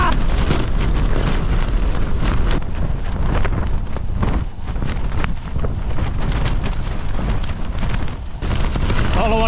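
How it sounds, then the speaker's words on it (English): Strong wind tearing across a Lake District mountainside in sub-zero winter, roaring loudly and buffeting the microphone in continuous gusts with brief dips, and no voices. "That wind is piling through here now."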